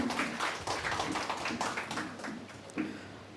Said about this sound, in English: Let's give a round of applause for the choir